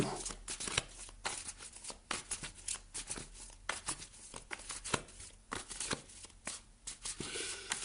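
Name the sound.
shuffling tarot cards for a reading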